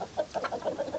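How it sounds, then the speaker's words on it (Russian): A chicken clucks in a quick series of soft, close, throaty notes, about half a dozen in a row, over low background noise. "вот как сейчас клюнула курица"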